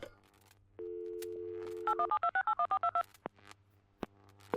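Phone dialing in a video game: a steady dial tone holds for about a second, then a quick run of about ten touch-tone beeps follows, with a couple of clicks afterward and no speech.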